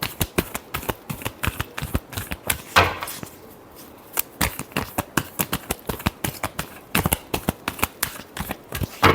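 Tarot cards being shuffled by hand, close up: fast repeated riffling flicks and slaps of the deck in steady bursts, with a short pause midway and no talk.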